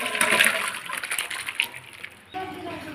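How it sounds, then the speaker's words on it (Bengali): Fish curry is poured out of a cooking pan, sending thin liquid splashing and sloshing in close, uneven gushes that briefly pause and then resume. "তো এখন ঝোলটাকে ঢেলে নেব।"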